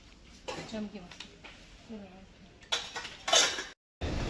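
Metal tava griddles for dosa and roti are handled in a shop, giving a few sharp metallic clanks and scrapes close by, mixed with people talking.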